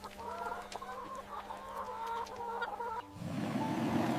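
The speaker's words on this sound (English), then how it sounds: "Chicken peck the food with coriander as part of fresh greens in rations." Laying hens cluck and chatter in a run as they peck at rations mixed with fresh coriander greens, a steady stream of close, overlapping clucks with a low hum beneath, giving way to a broad rustling noise near the end.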